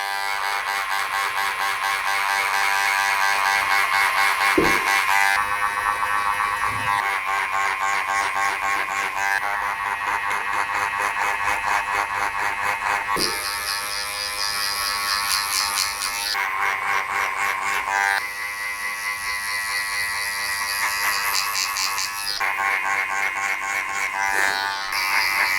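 Electric hair clippers fitted with a 1.5 guard buzz continuously through a very short classic British barbershop haircut, a steady close-up hum that shifts in tone as the blade moves through the hair, with no talking.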